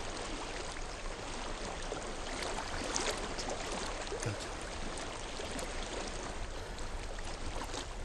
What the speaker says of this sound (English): I've reached the water. Good. That's your way out. Follow it upstream.